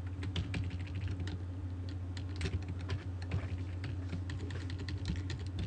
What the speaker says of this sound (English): I can tell I'm auto-typing now